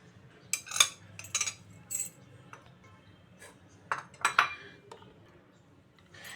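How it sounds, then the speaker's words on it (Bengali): Yogurt mixture is stirred in a bowl for naan dough, with a spoon making scattered light clinks and taps against the dish amid quiet stretches. "এবার এই মিশ্রণটা আমি খুব ভালো করে মিশিয়ে নেব।"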